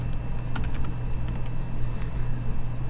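Quick, light keystrokes on a computer keyboard, clicking in irregular bursts over a low steady electrical hum, close and fairly soft with no talking.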